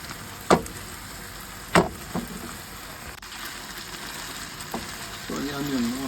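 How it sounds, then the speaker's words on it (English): Lamb cooking on a slow stove gives a low, steady sizzle with a few sharp clicks and knocks from utensils, fairly quiet throughout. "Bit of moisture comes out of the lamb on the slow stove, but it's alright to keep cooking until that's gone."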